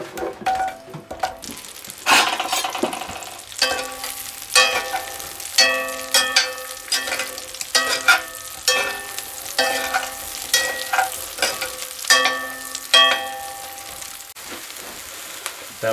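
Halved Brussels sprouts frying in bacon grease in a pan while being stirred, with a loud continuous sizzle broken by repeated scraping and clattering stir strokes in an uneven rhythm, close and without talk.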